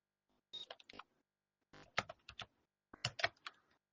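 Fingers typing a command on a computer keyboard, three short bursts of quick close key clicks separated by brief pauses in a quiet room.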